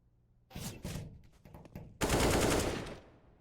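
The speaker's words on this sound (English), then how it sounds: "Good spam coming out, Rigon gonna find the kill, Rigon." Rapid automatic gunfire in a Counter-Strike match, with short bursts and scattered clicks giving way to a loud sustained volley, no voices.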